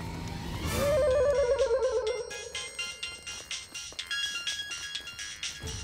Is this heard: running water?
no